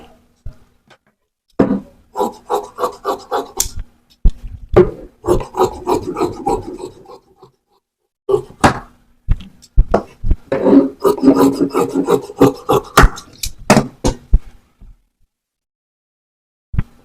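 Scissors cutting gown cloth at home, repeated bursts of rasping snips and fabric rubbing, close and loud, separated by short pauses and sharp clicks.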